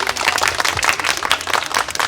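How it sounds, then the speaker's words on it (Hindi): Audience at an environmental awareness event in Delhi clapping steadily for two speakers, a dense continuous patter of many hands filling the room without a break. "तो इनके लिए आप तालियां बजा दीजिए।"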